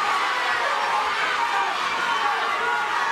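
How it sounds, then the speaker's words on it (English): An arena crowd at a Caesars MMA fight roars and cheers in a steady, dense wash of noise, a commentator talking over it. "This Caesars crowd really getting behind Munah Holland."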